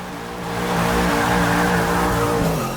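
Hot Wheels Boneshaker doing a burnout in Forza Motorsport 6, engine roaring loudly and steadily with screeching tires, swelling up and holding for a few seconds, close and with no voices.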